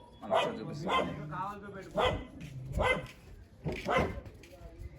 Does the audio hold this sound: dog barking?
yes